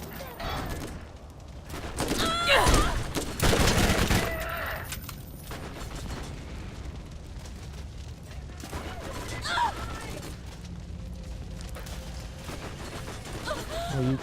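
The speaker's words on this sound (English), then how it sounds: "That's someone with the machine gun from hell in the distance." Rapid automatic gunfire rattles in bursts during Borderlands gameplay, loudest early and then fading to a more distant chatter over game ambience, with some muffled voices.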